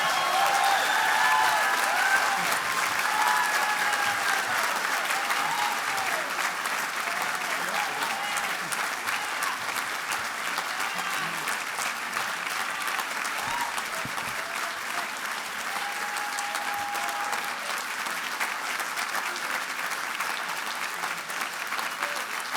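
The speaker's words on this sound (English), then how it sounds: "We normally don't have a clap that long." Long, steady applause from a commencement ceremony crowd follows a graduation speech, dense clapping holding at an even loudness for over twenty seconds with no speech.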